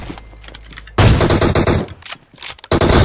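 Automatic gunfire in the mobile battle royale game PUBG Mobile, a loud close burst of rapid shots followed by a brief lull and another sharp volley at the end.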